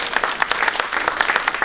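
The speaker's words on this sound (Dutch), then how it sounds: "Een applaus." Brief burst of applause from a church congregation, many hands clapping in a dense, even patter close by.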